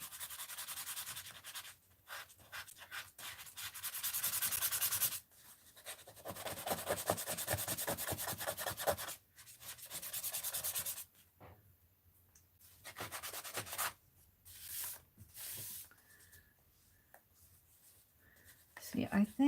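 Paint being scraped off an art piece with a tool, rough rubbing and scratching strokes in bursts, close and fairly loud, with stretches of quieter pauses and a person talking in between.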